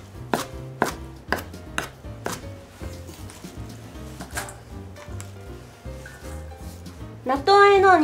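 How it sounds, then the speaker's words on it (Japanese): Quick, steady knife chops through spinach on a cutting board, a brisk regular rhythm of sharp taps over soft background music. "この包丁の刃を縦横斜めに入れて、まあ、ざっくりとした粗みじん切りのような形で切っていきましょう"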